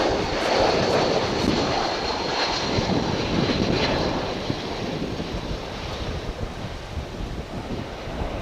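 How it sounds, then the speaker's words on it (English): An American Airlines Airbus A321 jet arrives at Dallas Fort Worth airport, a steady broad engine roar close by that eases slightly after a few seconds, with wind noise and no talking. "Here comes a flight from San Diego, California. It's an American Airbus"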